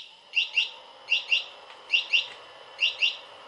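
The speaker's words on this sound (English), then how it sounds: "I have also added a sound, so anytime this whole thing is active, the sound will go on" A motorized pool reel controller sounds an electronic chirping alert while running, with repeated pairs of bright high beeps at a steady rhythm, fairly close, and no voices.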